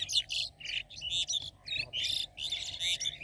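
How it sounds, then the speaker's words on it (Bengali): Many birds chirp and tweet in quick, overlapping bursts over a freshly ploughed field being worked with cattle in Naogaon, Bangladesh; the calls are fairly close and lively, with no talk. "অনেক পাখি এখানে।"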